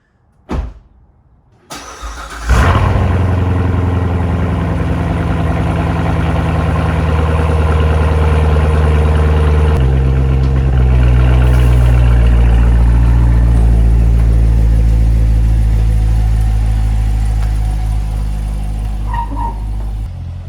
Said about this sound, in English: I'm going to open up and give you a cold start.